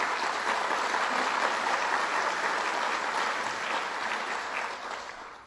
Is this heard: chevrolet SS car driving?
no